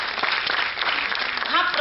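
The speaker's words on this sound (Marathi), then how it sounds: "तर एकदा जोरदार टाळ्या गणेश शिंदे यांच्यासाठी." Audience gives hearty applause for the speaker, Professor Ganesh Shinde, at a talk on education: dense, steady clapping from a hall crowd, with a voice rising over it near the end.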